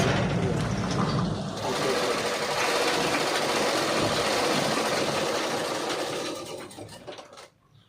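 A sewing machine stitching fencing material runs in a loud continuous mechanical whir for several seconds, then slows and stops near the end, with no talking.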